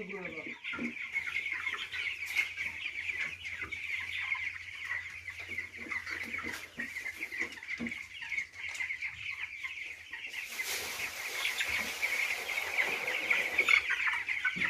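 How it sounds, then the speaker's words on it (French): Chickens on a poultry farm raising broilers and laying hens keep up a continuous clucking chorus, with overlapping calls at moderate distance and faint voices now and then. "Monsieur Samassi, il y a un poulet sur pied, son cou est déplacé, il a quelle maladie."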